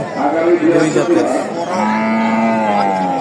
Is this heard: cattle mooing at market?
yes